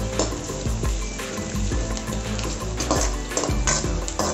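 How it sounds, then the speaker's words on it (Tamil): Onions fry in a pan toward golden for dhaba-style chicken handi, a dense, continuous sizzle with repeated scraping stirs and metallic pan knocks, close and fairly loud with no voices. "பொன்னிறமாக நல்லா வெந்து வரட்டும்"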